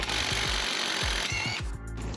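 Impact wrench with an impact socket hammering in rapid bursts on the rear wheel bearing parts of a 2004 Subaru Impreza WRX, close and loud, with short pauses between rattling runs.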